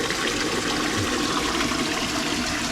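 Water rushes at the Akashi Ganga waterfall, a steady, loud, broadband roar of falling water with no break.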